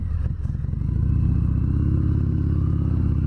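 A 2019 Harley-Davidson Fat Bob 114 gives a brief rev, then settles into a loud, close, lumpy idle with a deep, steady pulsing throb.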